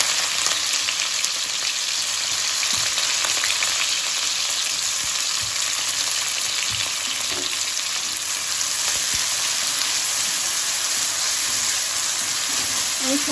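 Onions frying in ghee in a pan for vegetable pulao, a steady close sizzle that runs unbroken through the whole stretch, with a few faint stirring clicks and no talk over it.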